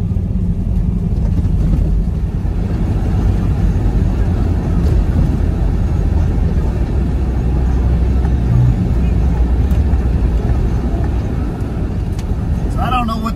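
2003 Honda Element driving through about four inches of snow, a steady low rumble of engine and tires heard from inside the cabin, loud and continuous throughout.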